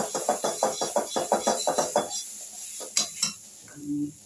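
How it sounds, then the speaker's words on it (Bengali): Black cumin and garlic go into hot oil in a pan, heard as a quick run of about a dozen even spatula scrapes, then a pause, a couple of harder knocks and a soft sizzle. "কালো জিরে ফোড়ন দিলাম, রসুন দিলাম।"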